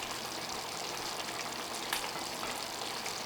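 Mutton yakhni pulao with plenty of water simmers in a pot over low flame, giving a steady, soft bubbling sizzle that runs evenly throughout, close and moderate in level, with one brief clink near the middle.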